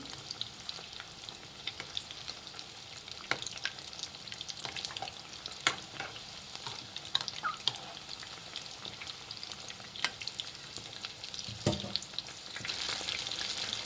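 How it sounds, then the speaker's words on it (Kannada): Chicken kebab pieces fry in hot oil over a high flame, a dense continuous sizzle with occasional crackles and stirring clinks, close and steady throughout. "ಫ್ರೆಂಡ್ಸ್ ನೋಡಿ, ಹೈ ಫ್ಲೇಮಲ್ಲಿ ಇಟ್ಟು ಕಬಾಬ್ ಮಾಡಬೇಕು."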